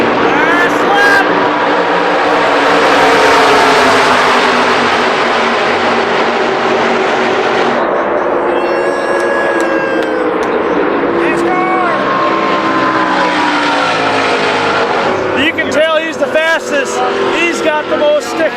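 Race cars roar around an oval NASCAR track at sunset, a loud sustained engine drone sweeping past with rising and falling pitch, with voices talking over the noise.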